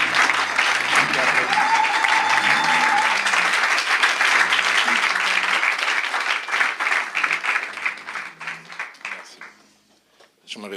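A church congregation applauds the Lord during a service, a dense, loud and continuous clapping that thins into scattered claps near the end, with voices mixed in.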